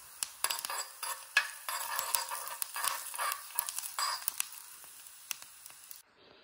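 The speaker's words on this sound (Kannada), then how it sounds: "ಅಲ್ಲಿ ಪೊಂಗಲ್ಗೆ ಒಗ್ಗರಣೆ ಹಾಕ್ತಾ ಇದ್ದೀನಿ" Pongal tempering sizzles in a hot pan, with crackling frying bursts and a spoon stirring and clinking against the metal, close up and irregular, then cutting off abruptly at the end.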